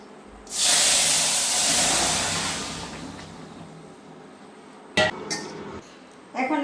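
Hot oil poured onto fried chili in a cooking pan erupts into a loud, bright sizzle that gradually fades over a couple of seconds, followed by a few sharp clinks of utensils against cookware.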